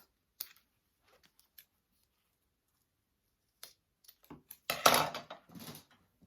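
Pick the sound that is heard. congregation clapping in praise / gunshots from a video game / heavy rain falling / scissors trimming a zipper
scissors trimming a zipper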